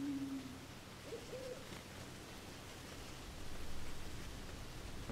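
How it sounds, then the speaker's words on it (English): A single owl hoot sounds early in a game forest scene from Endling: Extinction Is Forever, with a second short call soon after, both fairly faint over a steady background hiss of wind or ambience. "I can hear an owl."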